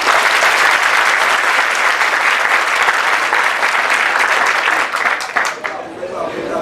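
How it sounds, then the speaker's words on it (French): Warm applause from the crowd at a university graduation ceremony in Gonaïves, Haiti, loud and continuous for about five seconds, then thinning out as a voice comes in. "je demande de très très chauds applaudissements"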